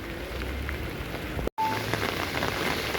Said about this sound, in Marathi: पाऊस काय थांबायचं नाव घेत नाही, कंटिन्यू पाऊस होतोय